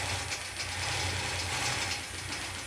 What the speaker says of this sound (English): So just keep stitching right on around that flower and just kind of gently follow the curve